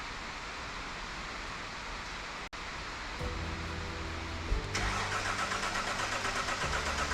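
Audi Q7 with a cracked valve cranking over after a quiet hum, then catching and settling into a rough, close idle that keeps running steadily.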